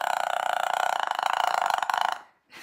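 A talking pet bird imitates a burp on request, producing one long, loud, buzzing croak lasting about two seconds before cutting off.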